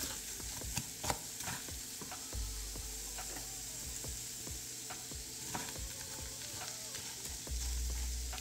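Cauliflower and vegetable fried rice frying in a pan, with a steady close sizzle throughout, punctuated by irregular scrapes and clicks of a utensil stirring, no voices.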